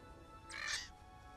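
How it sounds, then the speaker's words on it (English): A raven chick gives a single short, hoarse caw, fairly faint and alone against quiet background noise. "A raven chick."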